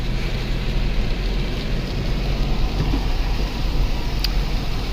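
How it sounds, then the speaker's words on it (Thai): The Hueang River flows beside a road in northeastern Thailand with a constant rushing roar that stays steady and fairly loud throughout, with no voices. "ได้ยินเสียงน้ำไหม"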